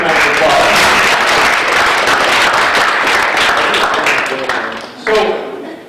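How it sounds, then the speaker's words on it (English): A seminar audience applauds a volunteer with a dense burst of clapping that fills the room, then thins and fades out near the end. "Give him a round of applause"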